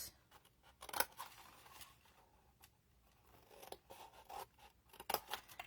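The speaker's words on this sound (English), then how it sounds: "So we just want to cut up to that next score line and create those little flaps." Scissors snipping through paper box flaps, several crisp close cuts in irregular bursts with soft rustling and scraping between them, no talking.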